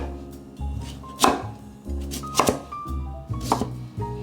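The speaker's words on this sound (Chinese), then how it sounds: "把地瓜切成片状" Knife slicing a peeled sweet potato on a cutting board, three crisp distinct cuts spaced about a second apart, close and clear with no talk.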